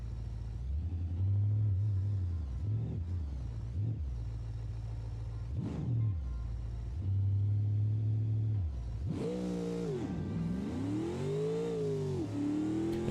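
A drag-tuned car with its front suspension lowered rumbles and whirs through a run, the engine rising and falling in pitch over several gear changes before climbing hard near the end, steady and moderately loud with no talking.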